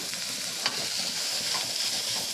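Chopped onion and green chili fry in a pan with turmeric and salt, giving a steady, close sizzling hiss with faint stirring clicks and no talking.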